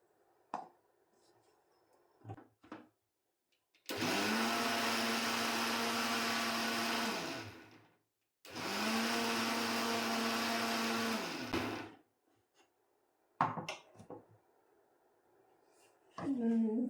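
A mixer grinder grinds turmeric with kumkum ingredients into powder in two loud, steady whirring runs of about four seconds each, with brief pauses, and a person speaks softly between runs.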